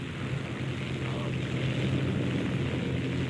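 Propeller aircraft engines of AI attackers drone steadily in War Thunder, a thick continuous roar with a low throbbing hum.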